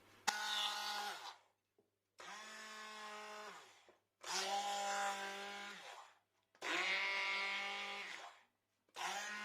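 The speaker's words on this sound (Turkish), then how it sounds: "iri parçalar halinde doğradığım domatesleri şimdi blenderdan geçireceğim" A kitchen blender purées roughly chopped tomatoes for homemade tomato bread, running in four loud bursts separated by brief pauses, its motor whine steady and close with no talk over it.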